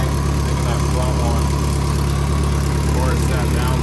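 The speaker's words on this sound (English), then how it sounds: "Definitely getting manifold leak, I think." Mazda Miata engine idling with a suspected exhaust manifold leak, a steady loud low rumble with a constant ticking, puffing texture, close by and unbroken, with speech mixed in.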